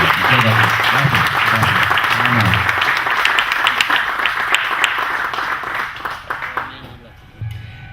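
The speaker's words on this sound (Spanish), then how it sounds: "Solo me resta pedirles un aplauso muy fuerte a nuestro poeta Víctor Hugo Mejía" A hall audience applauds a poet at a book launch of sonnets: a dense, steady wash of clapping with a voice talking over it early on, thinning and fading near the end before a brief swell.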